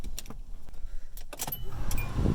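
A manual-transmission car is started up: a few sharp mechanical clicks and a key-like jangle come first, then a low engine rumble builds and settles into a steady idle near the end.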